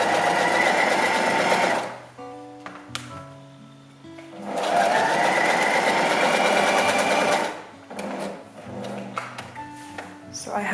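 A sewing machine stitches push-up bra cups in two long, loud, even whirring runs separated by a quieter pause full of small clicks and handling, with a short burst of stitching at the end.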